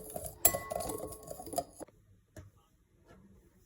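A spoon clinks against a dish while three spoonfuls of mustard go into a honey-mustard chicken preparation, a few close metallic taps and scrapes followed by a quiet pause and one more light knock.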